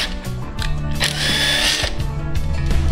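A power tool drives a bolt through a Thread Wizard thread cleaner, giving a steady mechanical whirring and grinding with a rising metallic whine in the middle, close and continuous.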